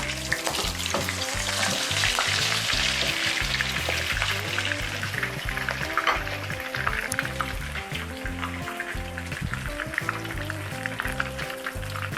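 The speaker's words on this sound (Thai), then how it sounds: "เราทอดให้แป้งนะคะกับกรอบเลยค่ะ" Thai oyster omelette batter fries in a hot oiled pan, a loud dense crackling sizzle with spatula scrapes and clinks throughout and no talking.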